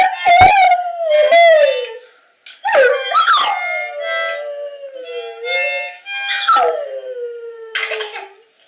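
A Rottweiler howls in long, wavering, rising and falling notes, several separate howls with short gaps, close and clear, joining in with a 1.5-year-old child.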